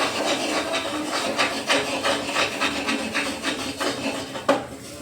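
Ragi flour frying in ghee in a pan, heard as continuous scraping and rubbing of a spoon or spatula stirring against the pan, with irregular clinks and a sharper knock near the end.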